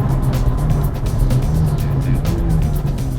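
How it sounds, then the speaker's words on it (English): A 2017 McLaren 570GT engine revs and blips as the gearbox downshifts, a loud, close throaty roar with rising and falling pitch across a few quick gear changes. "Love the way it downshifts."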